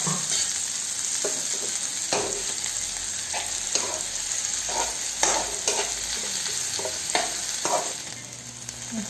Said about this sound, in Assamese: মই ভেন্দিখিনি প্ৰথমতে অলপমান ফ্ৰাই কৰি লওঁ